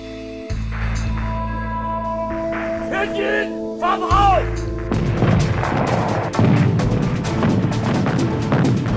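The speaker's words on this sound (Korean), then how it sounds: "일제히 대포를 쏘며 공격을 개시하자 적선들도 대포로 응수" Warship cannons exchange fire in a riverside naval battle between Joseon ships and enemy vessels, with heavy booms and crashing blasts rumbling under a loud dramatic music score.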